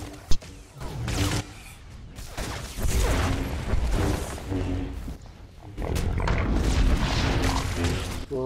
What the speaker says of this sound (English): Oh, I got dumped by a grenade.